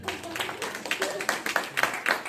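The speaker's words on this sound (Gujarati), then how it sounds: "તાળી પાડો એમના માટે" An audience applauding, a short burst of scattered, uneven hand claps heard at moderate distance.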